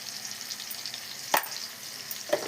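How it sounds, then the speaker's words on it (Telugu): Curry ingredients with coconut, lentil powder and coriander paste are stirred in a pan, giving two brief scraping strokes over a soft, steady sizzle. "అన్నీ ఒకసారి కలుపుకున్నాం"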